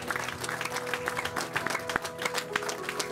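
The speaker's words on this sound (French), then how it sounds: "Donnons une acclamation." A church congregation applauds, dense close clapping from many hands with crowd noise and voices mixed in, sustained and fairly loud.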